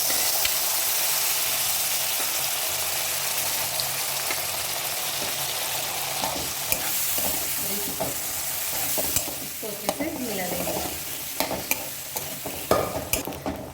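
Black chickpeas (kala chana) frying in a pan with roasted spices give a steady loud sizzle throughout, joined by clattering stirring and scraping that grows busier toward the end.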